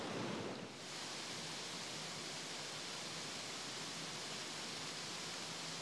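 The 20–25 foot side-by-side waterfalls at Twin Falls, Arkansas, where two forks of Devil's Fork converge, give off a continuous broadband roar of rushing water that stays steady and unbroken. A brief muffled bump comes at the start.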